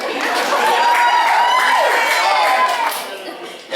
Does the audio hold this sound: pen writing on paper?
no